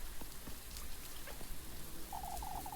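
Soft rain falling in the video game Little Goody Two Shoes, a faint steady patter with scattered drops and a brief chirpy tone near the end.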